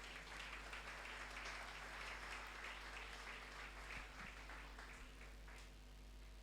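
A church congregation at a Passover seminar closing gives broad, sustained applause throughout, a dense wash of clapping at moderate distance under a low room hum.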